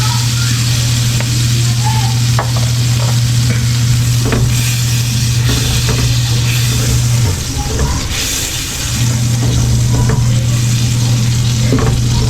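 Margarine melts and fries in a little cooking oil with a steady, loud sizzle and crackle, punctuated by occasional stirring clicks, while a constant low hum runs underneath and briefly drops out.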